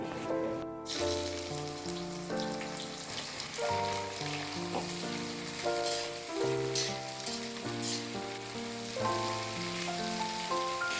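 Thinly sliced onions sizzling in hot oil with cinnamon and cloves for a chicken curry, a steady close frying crackle under music.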